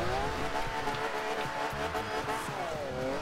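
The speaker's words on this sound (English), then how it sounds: "You drift it around" A car drifts in Forza Horizon 2 with a sustained tire squeal over a steady engine drone, the screech bending in pitch as the slide continues.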